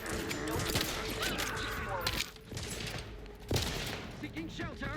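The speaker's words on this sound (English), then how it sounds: "It's like a shotgun?" Shotgun fire in the video game Outer Worlds 2, loud bursts of gunfire with sharp blasts around two and three and a half seconds, set in a dense battle mix under talking.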